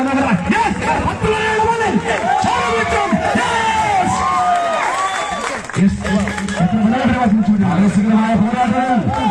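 A large crowd at a team sports match cheers and shouts loudly and without a break, many voices yelling over each other, with possible clapping underneath.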